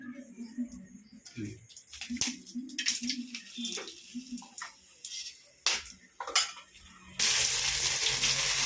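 Cinnamon, cloves and a bay leaf frying in ghee, a soft crackling sizzle with spoon taps under people talking, followed by a loud steady hiss toward the end.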